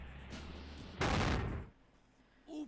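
An in-game explosion in a Spyro video game bursts loudly in a broad crackling roar for about half a second, then fades, with quieter game sounds before and after.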